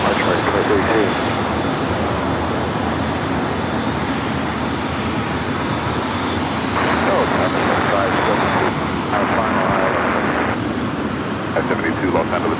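An airliner landing at Los Angeles International Airport produces a steady, loud engine roar throughout, with a tower controller's voice clearing the aircraft to land over the radio.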